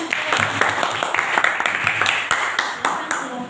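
A classroom of students claps for a group, with quick, uneven clapping mixed with voices, close and moderately loud.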